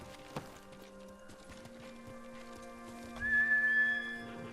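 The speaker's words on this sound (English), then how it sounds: "Horse!" A horse whinnies near the end in the video game Ghost of Tsushima, a rising high call over quiet background with faint hoof clops earlier.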